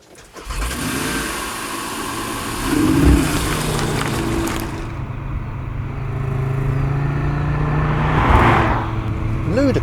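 A 2022 Audi RS3 fires up and accelerates hard. The engine roars close and loud, swelling into a revving surge midway, then holds a strong, rising drone until the end.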